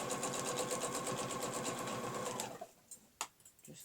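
Sewing machine stitching fabric for quilting with a ruler along a border, running in a steady fast whirring hum for over two seconds close up, then stopping, followed by a few faint clicks and handling knocks.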